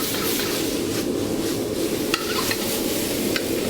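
A spoon breaks up rice stir-frying in a wok, a dense continuous sizzle with light scraping and a few soft metallic taps, loud and close.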